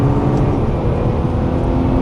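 Steady broadband engine roar of a Ferrari 458 Italia or Nissan GT-R under throttle on a race track, loud and close from inside the car, continuous without clear gear breaks and with no talk.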